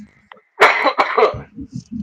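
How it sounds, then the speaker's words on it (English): A short cough or throat clearing bursts out loudly after a brief pause, followed by a few faint low thumps. "I still got a cough"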